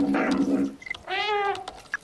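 A cat in the video game Stray meows several times in a row, loud and close. The meows vary from short calls to a longer drawn-out one, with faint game ambience underneath.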